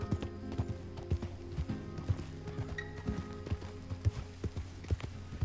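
Horse hooves clip-clop at a steady riding pace in Red Dead Redemption II, regular thuds close and clear, with a faint in-game whinny and light background sound.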